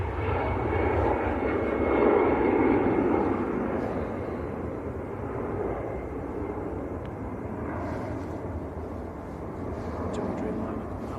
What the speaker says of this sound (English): Next to land on about a 2-mile final is SAS Scandinavian A320 Neo